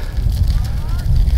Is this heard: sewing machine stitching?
no